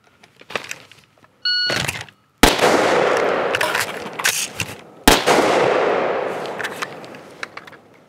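Sharp, loud gunshots from a timed chest rig reload drill at a shooting range: a few scattered reports, a short burst, then two heavy booming shots with long ringing decays, spaced a few seconds apart.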